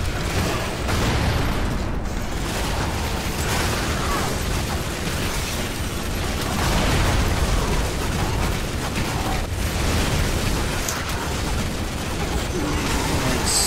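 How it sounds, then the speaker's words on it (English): Explosions blowing up corpses during a boss fight in the Lara Croft and the Guardian of Light video game, a continuous dense barrage of blasts and gunfire with crackling bursts throughout. "Don't forget to blow up the stupid corpses."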